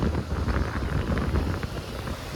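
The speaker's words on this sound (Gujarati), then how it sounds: "ટાઢો પાઢો પવન આવે" Steady wind buffeting a microphone, a continuous low rumbling roar with no pauses, close and fairly loud throughout.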